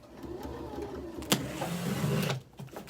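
A sewing machine runs a back stitch, its motor whirring in a short close-up burst that swells and then cuts off, with no speech.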